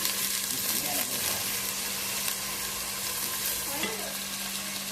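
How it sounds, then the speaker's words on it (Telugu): Pre-cooked dried meat pieces fry in an oil tempering, a dense, even sizzle held close and loud throughout, with a couple of soft stirring scrapes and no speech over it. "ఎండు ముక్కలు ఇప్పుడు మనం తాలింపులో వేసుకున్నామండి"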